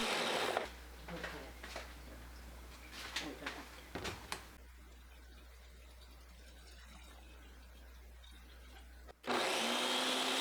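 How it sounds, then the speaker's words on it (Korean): A kitchen blender grinds pear, paprika, onion, garlic, ginger syrup and a little water. A loud whirring burst at the start gives way to a quieter stretch with clattering handling sounds, and then the motor roars again near the end. "믹서에 배, 파프리카, 양파, 마늘, 생강청 반 스푼, 생수 조금 넣고 갈아주세요."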